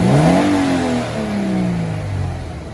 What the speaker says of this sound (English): I'll give the car a bit of a rev so you can hear it.